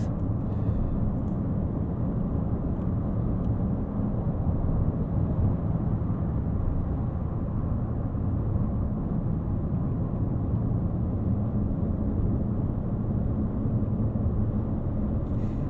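Bentley Continental GTC accelerating with a deep, steady whooshing roar from the car's engine, filling the cabin as a continuous low rumble that holds evenly for about sixteen seconds with no talk.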